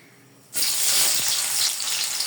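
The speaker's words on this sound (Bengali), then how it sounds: "আমি এখানে পেঁয়াজ দিয়ে দিব নিরামিষ পাকানোর জন্য পেঁয়াজটা আগে ভেজে নেই" Chopped onion drops into hot oil in a pan and bursts into a loud, steady sizzle after a quiet half-second, the frying hiss holding strong for a vegetarian gourd dish being cooked at home.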